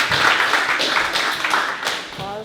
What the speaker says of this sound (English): Applause from the crowd for these guys.